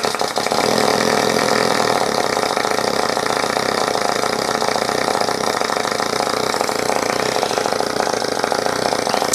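A pneumatic air motor driving a shop-built pail agitator runs with a steady, loud, continuous whirring roar that holds constant from start to finish with no talk.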